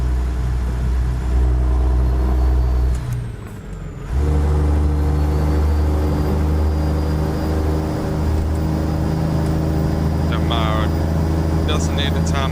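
Peterbilt 362 truck in American Truck Simulator with its engine brake engaged, heard from inside the cab: a loud, steady, deep rumble that briefly dips after a few seconds before roaring back, with faint clicks near the end.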